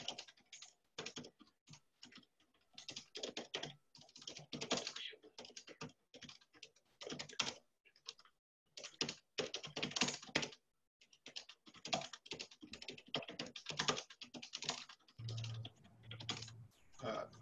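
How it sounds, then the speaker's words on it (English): Rapid typing on a computer keyboard clatters steadily through the whole stretch in irregular bursts of keystrokes, with brief pauses. The sound is close but quiet, and a faint low hum comes in near the end. "While you're typing"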